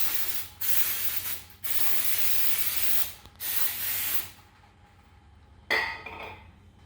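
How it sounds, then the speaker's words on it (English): Brake cleaner sprayed from an aerosol can onto the rear brake parts of a 2001 Ford Ranger XLT, in several loud hissing bursts with short pauses, followed by a brief clatter. "I'm going to clean with the brake cleaner."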